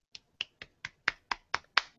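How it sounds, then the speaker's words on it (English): Quiet, light golf clap during a tech talk about the Surface Pro 3: nine sharp, evenly spaced claps over two seconds, close and crisp, with nothing else heard. "Golf clap, everybody."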